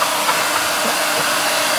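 A hair dryer blows warm air in a steady, loud, continuous whoosh with no pauses or voices over it.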